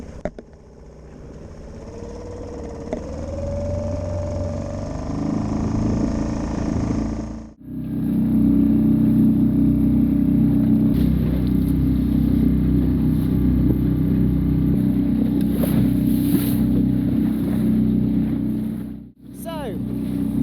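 Small outboard-style engine on a wooden sailing dinghy crossing open water, a steady droning hum that starts up and runs continuously, briefly cutting out twice, with water and wind noise around it.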